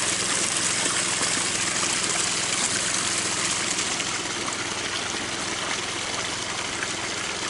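Water pumped from one garden pond into another makes a steady, continuous rushing gush with a low engine-like hum, loud and unbroken throughout.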